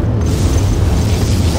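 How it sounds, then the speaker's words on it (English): Particle cannon firing in Command & Conquer Generals on PC, a sustained loud low rumbling roar with dense booming energy that holds steady throughout, with no pauses or distinct separate blasts. "Warning, particle cannon activated."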